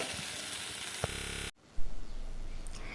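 Eggs frying in masala in a pan give a steady broadband sizzle, briefly cut off near the middle before resuming slightly quieter and closer.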